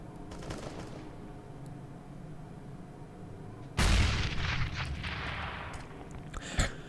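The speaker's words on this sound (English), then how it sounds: "It's all going to be on Ubeak to actually do some damage here with the shotgun" Gunfire in a competitive video game match including a shotgun, low rumbling shots giving way to a loud close burst of fire and a sharp final blast.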